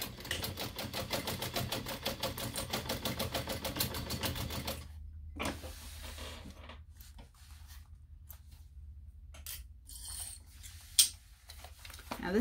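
A sewing machine runs a steady, rapid top stitch through a small backpack for about five seconds, then stops, leaving quieter handling, rustling and a sharp click.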